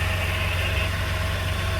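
A 1978 European-market Porsche 911 flat-six idles smoothly from a cold start, a steady low rumble with an even throb and no voices over it.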